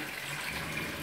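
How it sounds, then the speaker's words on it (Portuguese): Water poured into a pot of sausage sauce at a home birthday party, a brief steady splashing pour heard alone and fairly quiet. "Eu vou molhar mais aqui um pouquinho. Botar água para render esse molho."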